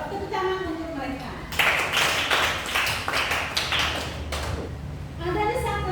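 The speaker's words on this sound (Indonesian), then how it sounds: "Tepuk tangan untuk mereka." Students in an eighth-grade religion class break into a short burst of brisk, scattered clapping in a classroom for classmates who answered, with a teacher speaking just before and after.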